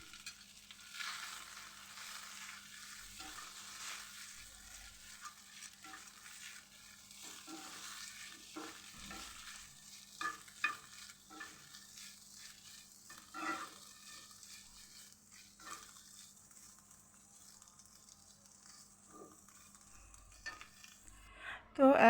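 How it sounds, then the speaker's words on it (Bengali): Fish pieces frying gently in ghee in a pan, a quiet sizzle broken by repeated spatula scrapes and clinks of stirring, close but faint, with a few louder knocks near the end. "এই ঘি দিয়ে আমি মাছগুলোকে একটু হালকা করে ভেজে নেব"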